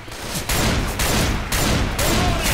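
Rapid bursts of gunfire from the video game Left 4 Dead 2, several heavy volleys in quick succession at loud, steady level with brief gaps between them.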